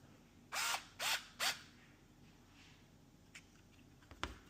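A T10 torque screwdriver working on the overhead console of a 2002 Ford F250 gives three close, crisp mechanical ratcheting bursts in quick succession, followed by a few faint clicks and one sharper knock in a quiet space.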